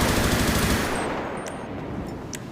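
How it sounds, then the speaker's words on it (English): AK-style assault rifle from a GTA FiveM sound pack firing a dense rapid burst, loud and close, then tailing off into echoing decay with a few faint clinks. "next we got the assault rifle slash like the AK kind of"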